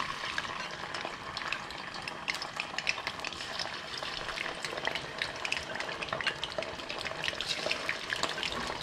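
Shad fish fry in hot oil in a pan, a dense, even crackling sizzle holding steady and fairly soft from start to finish with no voices.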